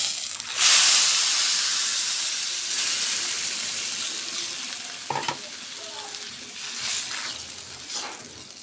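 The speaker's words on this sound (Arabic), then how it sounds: "هنزل عليه بالشوربه" Broth poured onto sautéed rice for a cow trotter tray bake, bursting into a loud hissing sizzle that slowly settles into steady frying, with a few sharp clicks of a utensil near the end.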